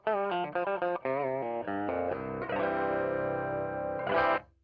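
Electric guitar with Mike Rylander copies of 1970s John Birch Magnum pickups rings through an Orange OR-120 amp on a slightly overdriven clean setting: quick picked notes, then a sustained strummed chord decaying and a final swell.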